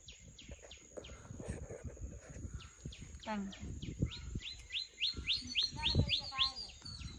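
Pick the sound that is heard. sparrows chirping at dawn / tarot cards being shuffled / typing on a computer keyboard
sparrows chirping at dawn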